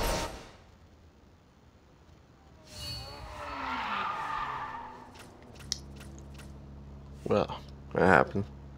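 Racing-game audio from Need for Speed No Limits: a steady engine drone with a rising, sweeping tire skid in the middle, then sharp scrapes and impacts near the end as the car runs through dense traffic.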